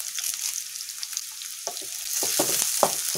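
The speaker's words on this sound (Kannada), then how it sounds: "ಇದು ಫ್ರೈ ಆಗ್ತಿದೆ" Chopped onion and curry leaves fry in a pan, giving a steady close sizzle with bright hissing, broken by a few stirring scrapes and pops toward the end.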